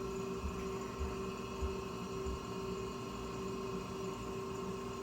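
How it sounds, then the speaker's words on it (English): A Laars Mighty Therm2 gas boiler's circulator pump runs with a steady low hum and constant tonal drone, unchanging and continuous, with no blower yet. "Circulator is on."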